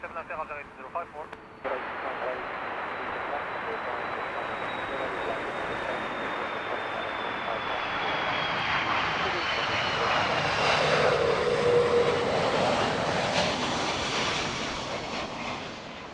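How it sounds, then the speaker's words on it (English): Airbus A330 touching down at Heathrow with heavy thrust reverser use, a loud sustained jet roar that builds and swells mid-clip before easing, heard from a distance outdoors. "Another A330 with a fistful of reverser on touchdown."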